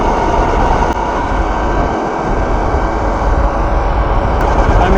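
Loud, steady wind roar and rumble while riding a Wired Predator 72V electric bike at high speed, a dense continuous rush with no break and no talk.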